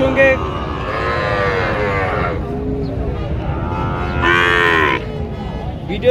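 Cattle at a livestock market in Panchbibi, bull calves among them, give repeated loud, drawn-out moos. Two long calls stand out near and clear over a steady crowd murmur and background chatter.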